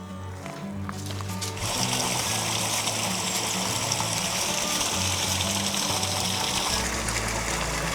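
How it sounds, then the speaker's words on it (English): Large sluice waterfall rushing like long rapids, a loud continuous roar of water that swells after a quieter opening second and then stays steady and close. "it's such a large sluice waterfall, it almost is just like a long rapids"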